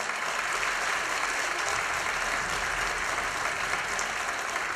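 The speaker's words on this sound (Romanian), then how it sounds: "Venim la aplauze!" Steady, dense applause fills the hall at a children's stage performance, a continuous even clatter of many hands, close and loud throughout with no talk over it.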